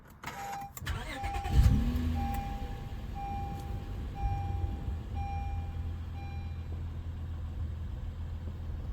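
A Honda Accord Coupe V6 with a six-speed manual starting up: a short cranking burst, then the engine catching into a steady low idle with a repeating interior chime, heard from inside the car without talking.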